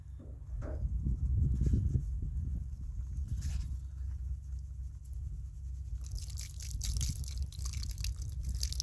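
Water running and draining from gold prospecting equipment, with wet trickling and gritty sloshing of material, louder early on, then quieter dribbles before the flow picks up again.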